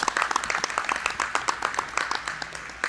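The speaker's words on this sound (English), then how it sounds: "I think we should give these exhibitors, breeders, a great round of applause." Brisk, steady applause from a crowd at a Jersey cattle show honoring exhibitors and breeders, many hands clapping together for a few seconds at moderate volume.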